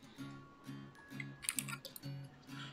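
Close, quiet clicking of a computer keyboard comes in short bursts of keystrokes with brief pauses between them.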